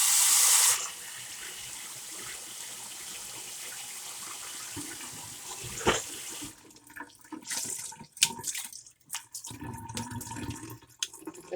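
Rice is rinsed with water in a pot: a steady gush of running tap water fills the first part, then gives way to closer sloshing, swirling and dripping as the grains are stirred, with no talking.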